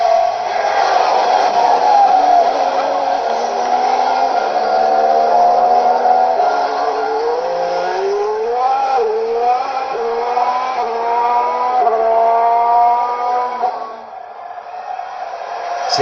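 A Formula 1 car on soft tyres, a V6 hybrid engine, passes at speed with a loud, sustained engine note whose pitch climbs in repeated rising sweeps as it works through the gears, then fades slightly near the end.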